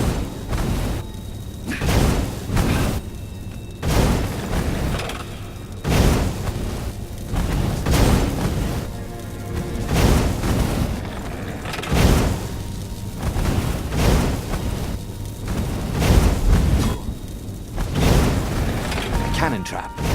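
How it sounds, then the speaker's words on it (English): Cannon trap in the action game Stories: The Path of Destinies, booming repeatedly in heavy, regular blasts across the stretch with rumbling impacts between them, loud and close. "Cannon trap."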